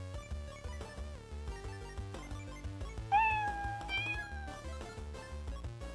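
Repeated cartoonish cat meows from the video game In Stars and Time, a rapid run of short, pitched mews rising and falling over a soft rhythmic game music loop, with no talking.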